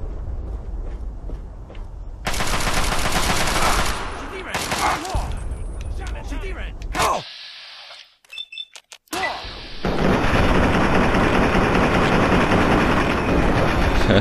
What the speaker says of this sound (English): maybe that's my teammate shooting him